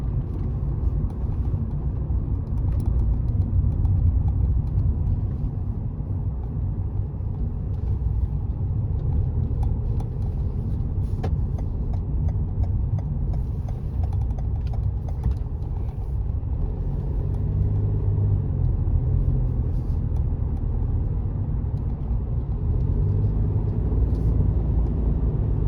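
A car driving on a road along a practical driving exam route with motorway sections, a steady loud engine and road rumble throughout with no break.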